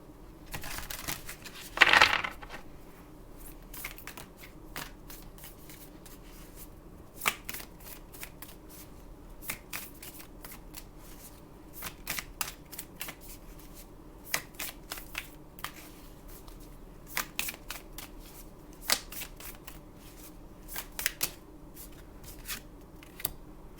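A deck of cards is shuffled close up, with a loud riffle burst early on and then repeated soft flicking and snapping card sounds in a quiet room, no talking.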